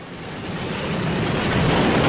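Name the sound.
train sound effect played on sports radio show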